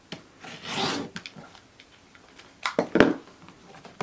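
A rotary cutter trims the edge of quilt fabric along a Creative Grids Log Cabin Trim Tool ruler, making close, rasping scrapes: one long stroke early on, then a louder burst of cuts later, with small taps between them.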